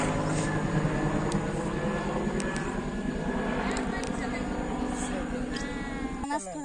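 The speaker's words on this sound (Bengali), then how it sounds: "হেলিকপ্টার গেল, হেলিকপ্টার।" A helicopter passes overhead in a rural village yard, a steady droning rotor wash holding throughout at moderate distance, with faint background sounds beneath.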